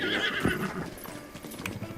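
Horse in a video game trotting up with a quick clip-clop of hooves on hard ground, followed by a short, sharp neigh, close and fairly loud with no voices.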